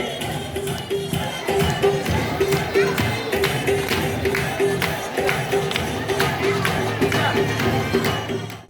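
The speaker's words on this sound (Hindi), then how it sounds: "आप लोगों ने इनके लिए तालियां बजानी है।" Audience at an event clapping in a continuous patter of hands, with crowd murmur and talking mixed in throughout.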